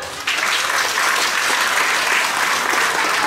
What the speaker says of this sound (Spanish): Ese aplauso para Librería San José.